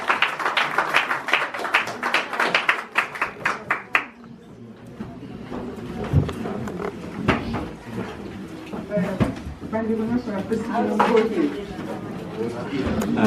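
Audience applause at a Congo Support Group celebration with Congolese mothers: dense, lively clapping for about four seconds, then a voice speaks over quieter room noise and scattered sounds.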